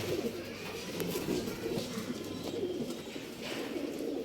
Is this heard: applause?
no